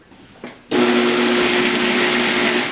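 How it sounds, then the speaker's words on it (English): Blender on low speed mixing vegan pancake batter, a steady loud whirring drone that kicks in abruptly after a brief clunk and runs on alone. "I start off on a low speed until everything starts to combine."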